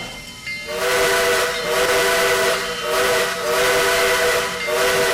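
Steam locomotive whistle of Southern Railway #4501 in the Trainz railway simulator game, sounding in long loud blasts with brief dips between them, mixed with hissing steam and no talk.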